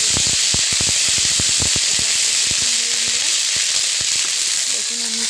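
Oil sizzles steadily in a wok after onions have been fried crisp for ilish pulao, a loud continuous hiss with scattered crackles and pops, near and without talk.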